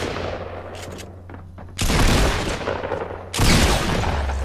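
Shotgun blasts in Fortnite, two loud broadband bursts a second and a half apart, each ringing out briefly over a low game background hum, with a softer rattle of fire before them.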